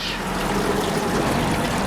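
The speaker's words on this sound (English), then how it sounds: "there's a tiny little brook coming down there, and it's trying to fill it up" A tiny brook trickles and dribbles down into a drained pool, a steady close watery wash with no talk over it.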